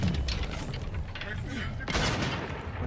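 Gunfire in the video game The Outer Worlds 2 rattles as a dense close volley, then a louder burst hits near the end, mixed with game noise and a voice talking.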